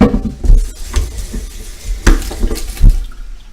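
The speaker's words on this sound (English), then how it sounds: "I'm going to rinse this out." Fish being rinsed under a running kitchen tap, with splashing water and a few clattering knocks against the sink in a busy close-up wash, no talking.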